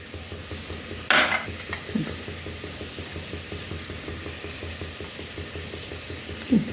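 Soya chunk bhaji stirred in a hot pan after cumin powder, coriander powder, turmeric, garam masala and onion-garlic chutney go in: one sharp scrape of the spoon over a steady, close sizzle, with a few softer stirring touches later.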